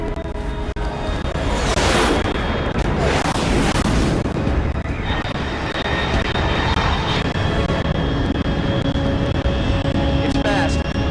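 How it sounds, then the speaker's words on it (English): A fast, unidentified jet aircraft roars overhead at high altitude in Metal Gear Solid: Snake Eater. The dense, sustained engine rumble swells early and then carries steadily with whining tonal layers for the full span. "Unidentified aircraft detected."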